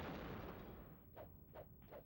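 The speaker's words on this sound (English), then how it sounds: "There's also an explosion that happened somewhere." Explosion in the video game Gauntlet Legends, heard as three quick muffled booms in succession near the end, following a rumbling noisy backdrop.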